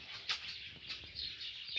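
Lovebirds and a ring-necked parakeet chirping together, a quiet chatter of short high calls with a few louder chirps standing out near the start and end.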